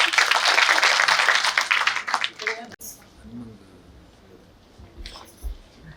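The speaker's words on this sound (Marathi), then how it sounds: "जोरदार टाळ्या वाजवायच्या आजीसाठी." An audience at a university awards event claps loudly for an elderly grandmother, a dense burst of applause that fades out after about two seconds, followed by scattered taps and faint talk.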